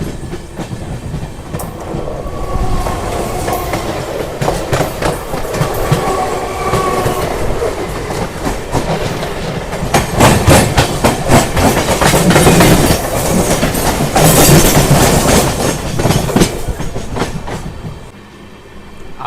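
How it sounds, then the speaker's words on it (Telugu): Sapthagiri Express with new LHB coaches running from Chennai Central toward Tirupati beside a MEMU train: loud, continuous rail rumble and clickety-clack of wheels throughout, with rhythmic joint clicks and a brief dip near the end. "సో ఇక్కడైతే మంచి రేస్ జరుగుతుంది మెమో ట్రైన్కి మన ట్రైన్కి"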